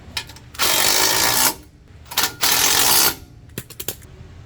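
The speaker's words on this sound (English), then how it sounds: "I'm just going to quickly run them up with my impact driver" Two rattling bursts from an impact driver running lug bolts up on a 2023 Chevrolet Colorado Trail Boss during a lift kit install, each about a second long, close and loud, with a few sharp clicks trailing after.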